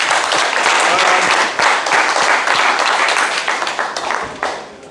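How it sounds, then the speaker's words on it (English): Audience at a book presentation in a hall in Essen, Germany, claps loudly in a dense burst with a few sharper individual claps, briefly dipping midway and then tapering toward the end. "Give Michael a big hand of applause."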